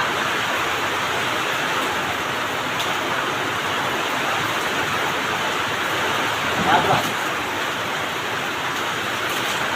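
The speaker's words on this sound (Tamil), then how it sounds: "பயங்கரமாக போய் பெய்யுது" Dense, steady hiss of heavy rain pouring down in Avinashi, Tiruppur, loud and continuous, with a brief spoken word partway through.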